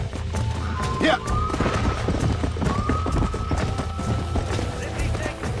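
Horse hooves clip-clopping in the Western video game Red Dead Redemption, a steady, fairly loud patter of hoofbeats with occasional heavier thuds, running throughout under game sounds.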